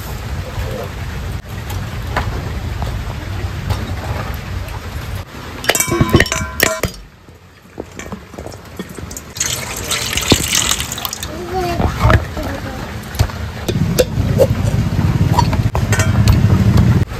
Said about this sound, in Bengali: অত বৃষ্টি পড়তে চলে আছে সারাদিন এইভাবে